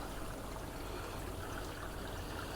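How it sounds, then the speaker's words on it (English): Water spills steadily down a waterfall in an aquarium river tank, a soft, continuous trickling rush that stays even throughout with no voices. "So it went into the second waterfall."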